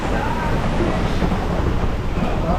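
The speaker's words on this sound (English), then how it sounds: "It's quite literally raining sideways." Heavy sideways rain and hail pound down at a drag racing event, a dense, steady roar of hiss and rumble with wind buffeting the microphone throughout.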